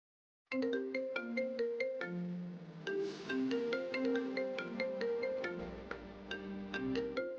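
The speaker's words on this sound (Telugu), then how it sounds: "వీడేంటి నాకు ఫోన్ చేస్తున్నాడు?" A phone ringtone plays a bright, repeating electronic melody, loud and close, starting after a brief silence and continuing steadily.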